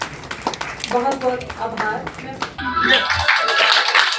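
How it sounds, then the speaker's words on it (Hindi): Clapping from a seated audience for the chief guest at an official ceremony grows into loud, dense applause after someone speaks briefly. "जोरदार तालियां।"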